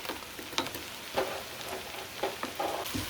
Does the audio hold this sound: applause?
no